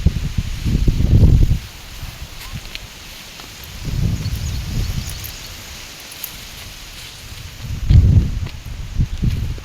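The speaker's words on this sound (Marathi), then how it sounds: "एकदम वारं सुटले" Wind gusts across an open farm field, rising and falling in three broad rumbling surges with rustling between them, close and fairly loud with no voices.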